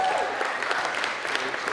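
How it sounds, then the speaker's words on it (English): A wedding audience clapping, a short steady burst heard close, with a voice speaking over it. "Give her a huge round of applause."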